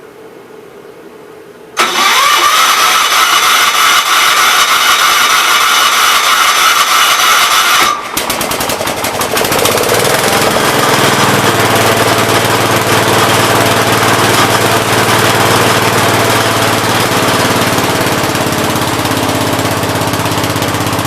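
A 1967 Gravely 430 garden tractor engine cranks, catches and fires up, then settles into a loud, steady running roar close by, with no talk over it.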